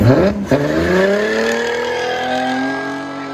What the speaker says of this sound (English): 1966 Ford Mustang straight inline 6.